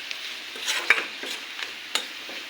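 Bay leaf, garam masala and white cardamom fry in hot oil in a pan for olive pickle, a soft, close sizzle broken by light stirring scrapes and small clinks.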